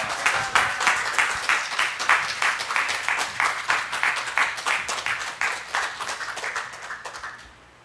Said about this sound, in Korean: 우리 허준 목사님 나오실 때 우레와 같은 박수로 우리 맞아주셨으면 감사하겠습니다